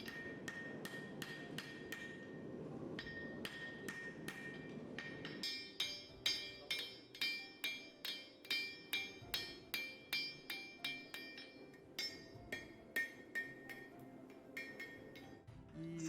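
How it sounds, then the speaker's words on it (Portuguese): A hammer strikes a hot horseshoe on an anvil, ringing metallic blows in a steady rhythm of about a dozen evenly spaced hits, moderately close over a low background rumble. "Ele coloca essa ferradura sobre a bigorna, pega um martelo e bate em suas laterais,"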